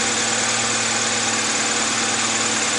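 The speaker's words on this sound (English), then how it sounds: "It's running perfectly. Idling perfect." A 2001 Honda CR-V engine idles steadily after a misfire repair, a constant, close, even mid-pitched hum with slight vibration and no breaks or backfires, alone without talk.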